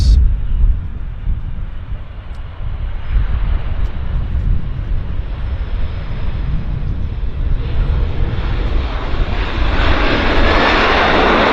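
A Japan Airlines airliner taxiing at Vancouver Airport gives a loud, continuous jet engine roar with wind buffeting the microphone, the whine slowly swelling in pitch and intensity over about eleven seconds.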